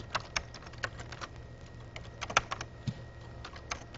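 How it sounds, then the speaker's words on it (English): Name being typed on a Commodore Amiga computer keyboard during Video Toaster work: scattered light key clicks in short irregular bursts, close and faint, with no talking. "type in a name"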